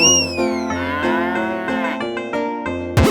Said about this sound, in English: here a moo, there a moo, everywhere a moo-moo